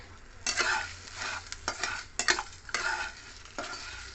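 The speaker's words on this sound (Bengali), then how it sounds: "এগুলো সবগুলোকে আমি এখন শুকনো খোলায় ভেজে নেব।" Dry whole spices with fenugreek seeds are stirred and rattled in a nonstick pan with no oil, giving irregular scraping strokes and light clinks at close range, with no talking.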